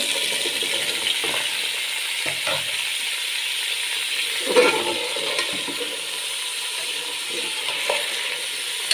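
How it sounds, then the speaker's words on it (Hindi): Chopped carrots fry in ghee in a pan, a steady even sizzle with a few soft stirring knocks and scrapes, close and continuous with no talking. "अब हम इसके अंदर ये कट की हुई गाजर डाल देंगे"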